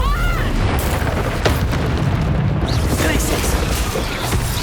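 Confringo fire spell blasts in Hogwarts Legacy on PS5, heavy booming explosions and magical bursts in quick succession amid combat clatter, loud and close.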